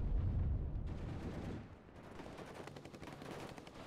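Machine-gun fire in the WARNO real-time strategy game, a loud rumbling burst of gunfire at first that settles into a steady, fainter crackle of rapid shots.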